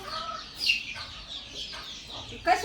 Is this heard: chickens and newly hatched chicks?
yes